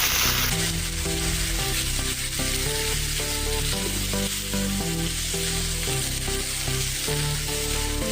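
Watery gobhi masala sizzles and fries loudly and steadily in a pan, with rhythmic stirring clatter running through the whole stretch and no voices.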